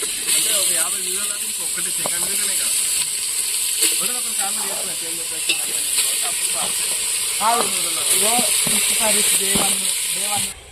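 Chicken pieces frying in a pan with onions and green chillies for a biryani gravy, a steady sizzle and hiss with occasional stirring and clinks, under intermittent talk in a village outdoor kitchen.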